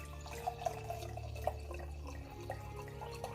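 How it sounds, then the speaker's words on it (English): Chilled wine poured into a glass, a close trickle with small splashy drips over a low steady background hum. "we are gonna go ahead and pour us a glass"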